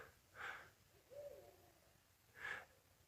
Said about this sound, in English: You can actually hear a barred owl too.